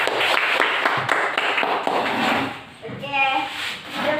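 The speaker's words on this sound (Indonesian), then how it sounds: "Tepuk tangan untuk kelompok 2." Classroom pupils clapping for a group, uneven bursts of hand claps mixed with knocks and shuffling, then children's chatter and a teacher's voice toward the end.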